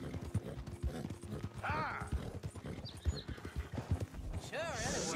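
A horse is ridden at a quick pace in Red Dead Redemption 2, with rhythmic hoof clip-clops throughout and short neighs and whinnies mixed in. A voice talks over the riding.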